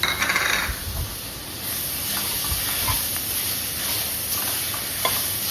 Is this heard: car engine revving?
no